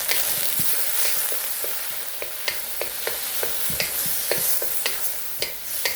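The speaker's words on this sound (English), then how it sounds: "And we'll saute." Squid sautéing in a hot pan with black bean sauce, Shaoxing wine, sugar, pepper and dark soy sauce, a constant loud sizzle broken by frequent sharp spatula taps and scrapes in an irregular rhythm.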